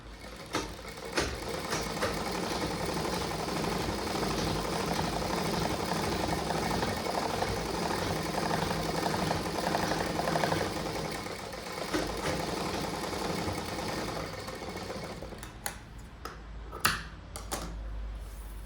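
A sewing machine runs a long, steady double stitch on a cross-cut blouse, a continuous close-up whir of about fifteen seconds that ends in a few clicks and handling knocks.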